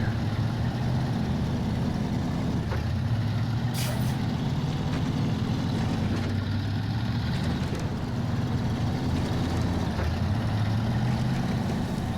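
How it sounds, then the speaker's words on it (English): Heavy truck in the video game SnowRunner driving with a constant low engine drone, occasional air-brake hisses and faint clunks over the steady rumble. "We're gonna go ahead and drive back to the roadblock."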